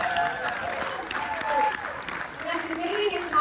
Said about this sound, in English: can I get an equally loud level of applause for a fan of John Carpenter?